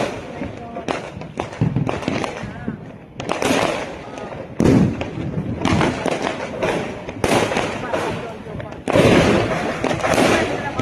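Diwali firecrackers and fireworks burst nonstop near a home, with dense crackling, popping and sharp bangs in rapid, overlapping clusters while people talk throughout.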